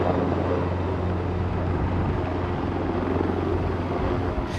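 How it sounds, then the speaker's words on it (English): A helicopter flies close by near an earthquake-struck area of Morocco, its rotor thrumming loudly and steadily throughout. "The only quick way to get here is by helicopter."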